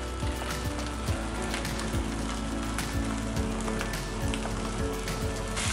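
Chopped tomatoes sizzle in a pan of cooked masala, a steady dense hiss and crackle with no break, moderately loud and close.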